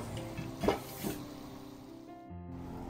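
Kaffir lime leaves dropped into hot oil in which peanuts were just fried, with a loud initial sizzle and crackle, a second burst, then a steady frying hiss that fades after a couple of seconds.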